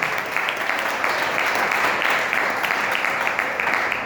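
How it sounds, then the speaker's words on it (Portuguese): A church congregation applauds during a sermon, a thick, even wash of clapping from many hands that fills the room at a steady level for a few seconds. "Vamos aplaudir ao Senhor."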